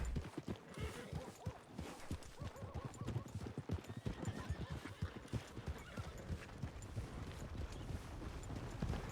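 Horse hooves clip-clop in a steady uneven rhythm with a neigh in the video game Red Dead Redemption roleplay, close and fairly quiet, with faint wind in the background.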